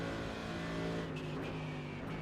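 An LMP prototype race car in the iRacing sim approaches from behind, its engine a steady droning whine with shifting harmonics blended with the player's own car engine, revving and building slightly as it closes in.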